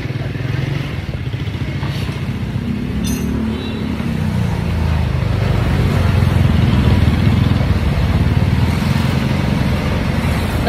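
Busy Friday street traffic on Main Avenue at Araneta Center, a continuous low rumble of engines, motorcycles and cars passing nearby, with a brief clatter partway through.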